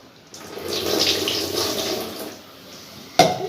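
Tamarind being rinsed under running tap water, a steady splashing flow that swells then eases, ending with a sharp knock.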